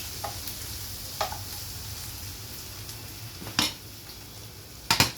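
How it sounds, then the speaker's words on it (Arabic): Peppers, onion and garlic frying in a pan while being stirred, a continuous sizzle with a low hum underneath and a few sharp utensil clinks against the pan, no voices. "بعد ما حطيت الفلفل والبصل والثوم ايدوا فيهم عشان ما يتحرقوش"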